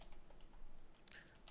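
Quiet, rapid typing on a computer keyboard as a code comment is entered, a soft run of light key clicks heard alone and fairly close.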